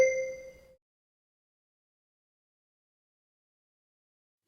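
A single bright bell ding in a French language lesson rings out clearly at the start with ringing overtones, fades within a second, then silence follows.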